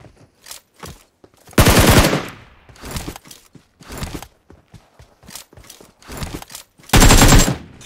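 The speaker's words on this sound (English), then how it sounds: "So many bullets." Bursts of automatic gunfire in PUBG Mobile, two long loud sprays separated by shorter scattered shots and quieter clicks and footsteps, with no talking.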